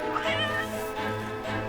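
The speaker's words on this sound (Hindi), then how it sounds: "ओफो, शे, बिल्ली है।" A cat meows nearby, a few drawn-out, loud, whining cries in a row.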